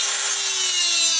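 Metal pushrod for a VW engine being sawn through, a continuous harsh, bright rasping stroke up close, loud and without pauses or talking.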